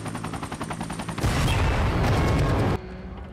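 A sudden loud explosive blast of a helicopter erupts after its rhythmic rotor whir, roaring for over a second before cutting abruptly to quieter rumble.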